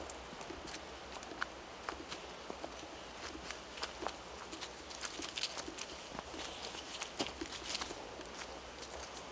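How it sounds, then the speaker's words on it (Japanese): Footsteps walking outdoors at night at a reputedly haunted spot, a steady run of soft, irregular crunching steps close by over a continuous background hiss. "僕らと違う足音が聞こえない？"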